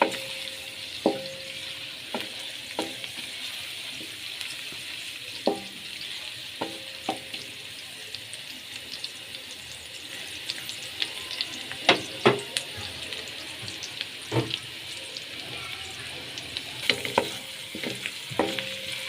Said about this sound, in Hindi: लहसुन को हमने लाइट ब्राउन रखना है, ज़्यादा हमने इसको पकाना नहीं है लहसुन को।